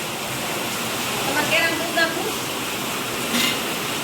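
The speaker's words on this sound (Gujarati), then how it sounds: "એવો વરસાદ પડે છે ધોધમાર" A dense, steady hiss of heavy rain pours down without a break, with faint voices barely showing through.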